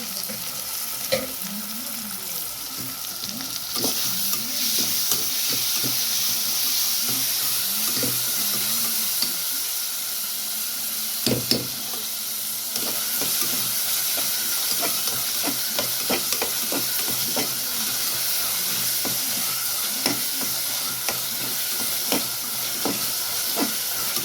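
Curry leaves, mint and tomato sautéing in a pan for a mutton dish, a steady close sizzle and hiss with occasional stirring scrapes throughout.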